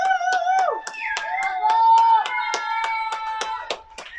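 Neighbours applaud key workers from their apartment buildings, with sharp, evenly spaced claps close by, a chatty voice, and whistles or cheers carrying over them.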